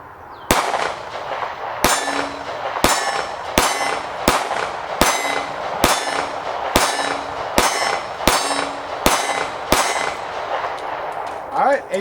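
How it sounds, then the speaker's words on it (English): Taurus G3C 9mm pistol firing at a steel plate: about a dozen sharp reports at a steady, unhurried pace, each followed by a ringing clang from the struck steel, loud and close. "I'm just shooting a steel plate."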